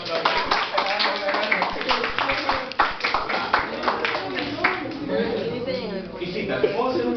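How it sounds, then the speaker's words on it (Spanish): An audience at a drug-awareness talk claps steadily for several seconds, the dense patter of hands mixed with people talking and voices rising over the applause. "un aplauso para él"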